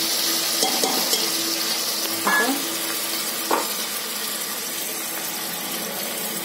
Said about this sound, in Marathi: आता चरबी घातली, कांदा टाकला, असा लालसर घालायचा